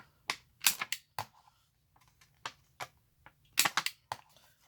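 An old Creative Memories paper corner rounder punch clacks repeatedly while trimming paper for a winter journal: a run of sharp, close snaps and clicks in irregular clusters with quiet gaps between them.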